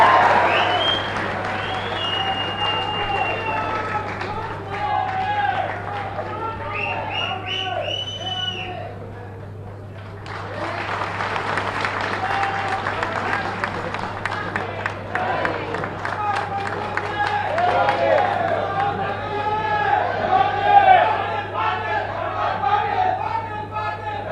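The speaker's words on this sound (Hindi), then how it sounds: "आप तालियां बजा के स्वागत।" Crowd at a BJP political rally in Karnataka during the 2023 elections bursts into loud, sustained applause and cheering. A short lull breaks the clapping before it swells again, with crowd chatter mixed throughout.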